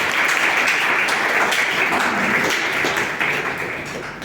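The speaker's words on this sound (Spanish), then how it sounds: "un aplauso para el profesor" Classroom applause for a professor after a neurology lecture, a dense sustained patter of many hands that tapers slightly toward the end.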